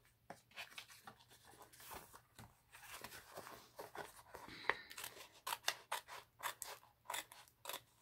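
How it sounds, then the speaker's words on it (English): Scissors cutting small gold paper leaves for a handmade folio, close and quiet, giving a series of crisp snips that get steadier and more regular toward the end, with no talking. "Let me just cut this one out."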